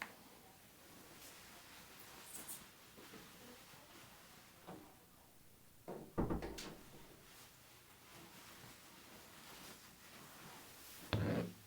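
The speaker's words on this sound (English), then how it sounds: "let me close the door here." An indoor door closes with a soft bump near the middle, then a second, louder thud near the end. A few lighter knocks and handling sounds come before, with no talking.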